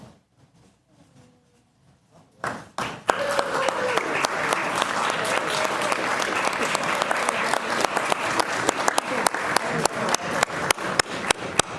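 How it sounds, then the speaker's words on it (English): Audience applause at an Oklahoma Route 66 Centennial event erupts after a few quiet seconds of a countdown, then sustained, loud clapping from a crowd continues steadily to the end. "another round of applause for Lauren at Gaylord College."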